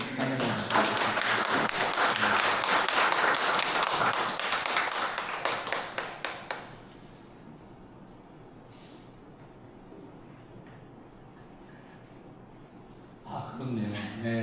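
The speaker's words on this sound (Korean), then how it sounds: "박수로 환영합니다." Church congregation clapping to welcome a guest to a talk session; brisk applause for about six seconds that cuts off into near quiet, with a brief burst of sound returning near the end.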